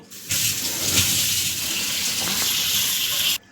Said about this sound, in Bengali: আমি চালটা একবার জল দিয়ে ধুয়ে নেব।